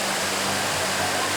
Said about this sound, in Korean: 소나무 숲이 둘러싼 깎아지른 절벽 위에서 새하얀 물기둥이 시원하게